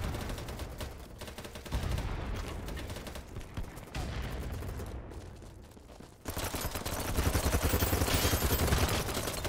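Gunfire in the BattleBit Remastered video game: rapid automatic bursts and a dense fusillade of shots, loud and continuous with short pauses, building into heavier sustained fire near the end.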